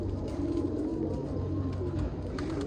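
Pigeons cooing steadily at close range, soft repeated low coos layered over a continuous flock murmur, with no clear wing flapping standing out.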